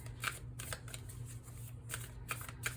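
A deck of tarot cards being shuffled by hand, a run of quick riffling bursts and soft flutters in an uneven rhythm, near and fairly quiet, with no talking.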